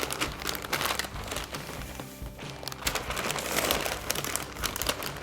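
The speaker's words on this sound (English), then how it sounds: "We're gonna go ahead and fold the edges in." Steady, close crinkling and crumpling as paper or foil is folded and tucked tightly around a smoked brisket cooked on a hybrid stick burner, continuous rustling with no talk.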